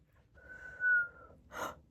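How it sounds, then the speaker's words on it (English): A single steady whistled note held for about a second, followed by a short breathy exhale. "I just whistled."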